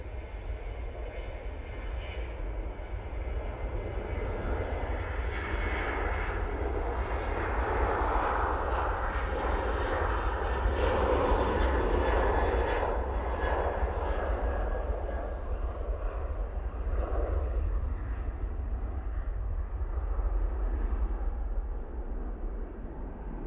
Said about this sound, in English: Jet 2 now on the roll.